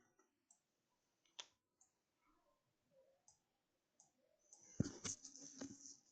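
A computer mouse clicks in sparse, faint single taps spaced unevenly, followed by a louder cluster of clicks and clatter near the end, with no talking.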